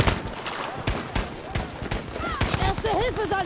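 Repeated gunshots and rapid bursts of weapon fire in Battlefield 5, sharp cracks firing close and often, mixed with shouting voices and talk throughout.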